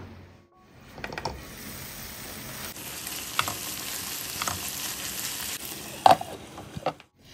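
Chicken cooks in a pan over low-to-medium flame, a continuous moderate sizzle with a few soft knocks and scrapes from stirring, fading near the end.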